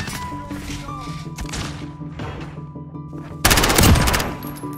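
Rapid automatic gunfire bursts loudly from a video game weapon fitted with a muzzle brake, following quieter game sounds and steady tones.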